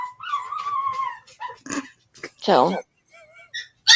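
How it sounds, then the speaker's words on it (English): A puppy yelps and whimpers in short, high, broken cries, close and fairly loud, mixed in with someone talking nearby. "It breaks my heart listening to him yelp."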